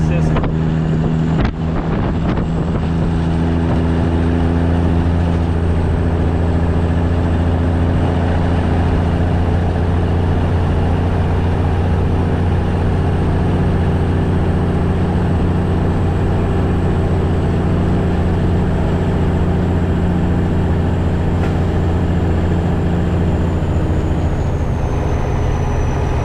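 A GMC/Volvo cabover truck's diesel engine idles steadily with anti-gel additive in the fuel, a constant low rumble with strong harmonic drone holding level for the whole stretch, close and loud, with some wind buffeting and no talk.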